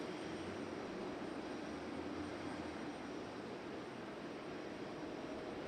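American Airlines jet airliner at Raleigh Durham airport gives a faint, steady engine roar heard from a distance, continuous and unbroken throughout.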